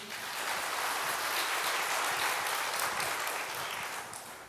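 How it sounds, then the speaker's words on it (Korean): A church congregation at a Friday prayer service at Seosan Holiness Church claps together in a sustained, even wave of applause that swells, holds steady for several seconds, then slowly thins out. "박수 한번 쳐주세요."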